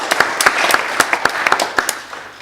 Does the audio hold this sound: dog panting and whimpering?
no